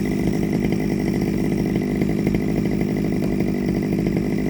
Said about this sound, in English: Happiness is with a chainsaw.